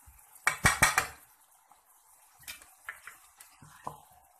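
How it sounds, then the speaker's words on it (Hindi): Minced meat and ginger garlic paste are added to onions in a pan, giving a quick burst of metal clanks and scrapes of utensil on cookware, followed by softer scattered clinks and stirring taps. "प्याजों के साथ ही हम कीमा भी डाल देंगे और अदरक लहसुन का पेस्ट"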